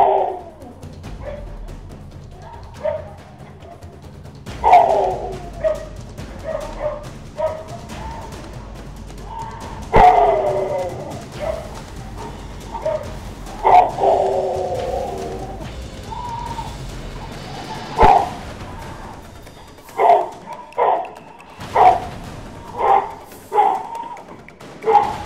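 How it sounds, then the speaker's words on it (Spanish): Dog barking outdoors in a Guayaquil neighborhood, repeated loud barks in irregular bursts with pauses, some near and others more distant, a few whimpering yips among them. "al escuchar el ladrido de un perro que habría alarmado al vecindario"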